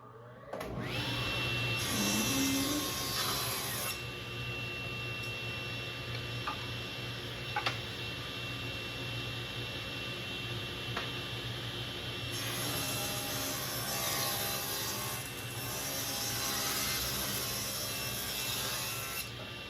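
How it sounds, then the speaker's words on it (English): A woodshop dust collection system runs steadily for about twenty seconds, a loud, continuous airy roar with a few faint ticks and knocks from the shop. "I'm going to turn on the dust collection."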